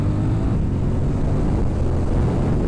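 Vehicle engine revving in second gear after the clutch is let up, a loud, steady low rumble with no speech.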